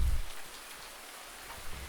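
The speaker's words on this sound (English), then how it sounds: "I don't know why I'm out in the rain again" Steady rain pours outside in Farming Simulator 19, a dense, even patter of drops on surfaces filling the whole moment without any talking.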